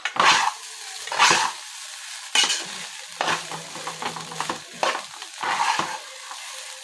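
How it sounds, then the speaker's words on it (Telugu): Egg rice tossed with fresh coriander in a hot pan, stirred in a few separate bursts: loud scraping and gritty shuffling of rice against metal, with quieter pauses between strokes and a light sizzle underneath. "ఇప్పుడు కొత్తిమీర వేసేసుకోవాలి వేసి ఒకసారి కలపాలి"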